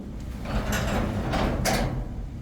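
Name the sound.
door being raised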